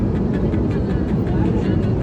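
Steady airplane cabin drone on a passenger flight from Mumbai to Indore, a dense low rumble of engine and air noise that stays constant and fairly loud throughout with no clear voices over it.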